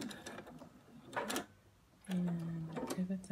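A home sewing machine stitching a cloth face mask, running in short mechanical bursts with pauses between, close and fairly quiet, with a steady hum in the later stretch.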